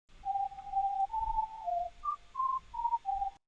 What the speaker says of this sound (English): Another one from Silent. It's called Master Whistle.